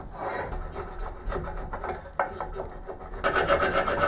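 A hand file rasps steadily across a cast iron shaper column in quick, repeated scraping strokes, close and moderately loud, growing brisker toward the end with no talking.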